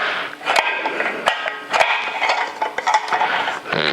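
Blades of a Cuisinart hand chopper spin with each push, making a series of plastic clicks and clattering rattles in short bursts, close and fairly loud.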